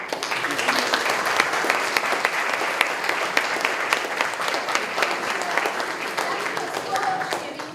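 Sustained applause from an audience at a school theatre performance by art school pupils, dense and steady clapping throughout with crowd noise, fairly close.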